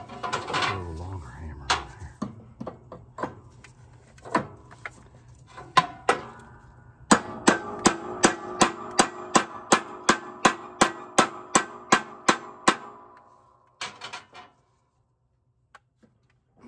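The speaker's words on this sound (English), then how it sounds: "Get the old hammer." Hammer taps a drive-in type grease fitting into a John Deere Z-Trac mower spindle: scattered sharp metallic strikes, then a rapid regular run of about a dozen close, ringing taps before a few final knocks.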